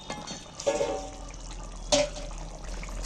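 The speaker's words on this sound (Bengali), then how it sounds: "এবার আমি মাছের ঝালটা ঝোলটা ঢেলে নিচ্ছি" Thin fish curry gravy with potato and green banana poured out, two short liquid splashing bursts over a quiet background with faint drips between.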